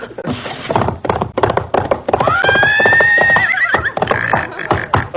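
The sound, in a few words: radio sound effect of horses neighing and hooves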